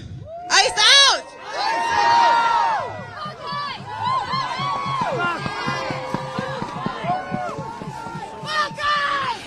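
A large crowd at a dispersing ICE protest demonstration in Minnesota fills the air with overlapping shouts, cheers and whoops, loud and continuous, with one voice talking close by over the din.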